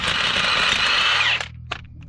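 A power tool whirs loudly for about a second and a half while removing lug nuts from a trailer, then cuts off, followed by a few faint clicks and clanks.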